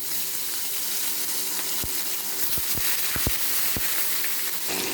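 Pomfret fish frying in hot oil in a wok, a constant close sizzle broken by several sharp pops and spatters, no voices.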